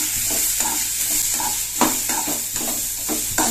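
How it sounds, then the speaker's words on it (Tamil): Onions fry with poppy seeds in hot oil, a loud continuous sizzle broken by rhythmic spoon-stirring scrapes, close and without any voice. "சேர்த்துட்டு அதில் வெங்காயம் சேர்த்துக்கணும்"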